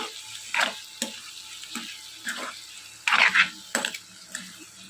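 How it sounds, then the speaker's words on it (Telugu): A spoon stirs taro curry with chili powder in a pan, making repeated scraping, clattering strokes roughly every half second over a soft background sizzle, close and fairly loud. "ఈ విధంగా మొత్తం మిక్స్ అయ్యేంత వరకు బాగా మిక్స్ చేసుకోవాలి"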